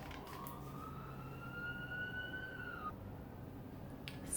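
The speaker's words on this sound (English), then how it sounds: "Sorry in advance for the sirens, guys. I'm right by a busy road." Emergency vehicle siren rising in pitch over steady traffic rumble near a busy road by a freeway entrance, moderately distant, cutting off abruptly partway through.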